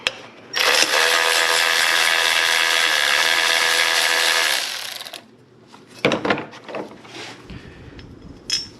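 A power tool, probably an impact or ratchet driver, removes two 10mm bolts on a 2008 Honda Odyssey engine during an alternator and valve cover gasket job. One loud, sustained whir lasts about four seconds, followed by clanks and handling noises.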